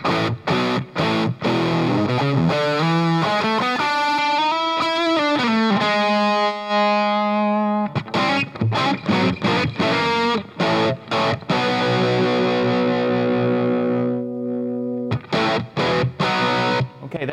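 An electric guitar played through an AMP1 amplifier with a distorted tone, mixing choppy muted chords with sustained ringing notes and chords that bloom and fade, loud and alone without talk.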